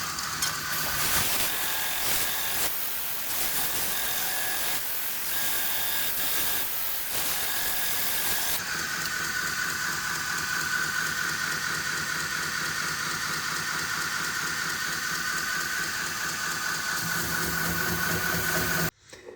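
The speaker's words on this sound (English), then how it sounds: "I'm going to throw it back up here on the silicon carbide belt and continue to profile this out some." A belt grinder profiles a Damascus knife blade on a silicon carbide belt, giving a steady, loud hissing whir throughout with a shift in pitch partway as the grind changes, ending abruptly.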